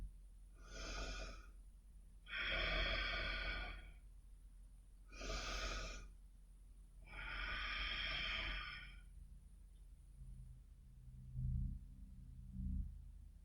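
Slow, deep breaths during a seated yoga practice, four long alternating inhales and exhales in steady rhythm, close and fairly loud, with quiet low sounds trailing off at the end.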